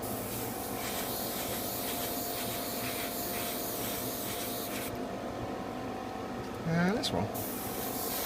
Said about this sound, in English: Now the airbrush is struggling a little bit because it keeps spluttering